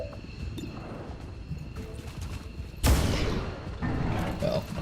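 A single heavy hand cannon shot in XCOM 2, a sharp loud blast that rolls off into a rumbling tail, set against low battle ambience.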